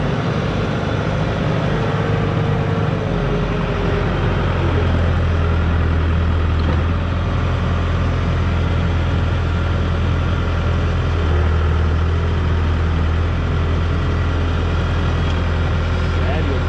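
A ranch tractor engine runs with a steady heavy low rumble, rising slightly in pitch partway through as it gets moved, with outdoor background noise throughout.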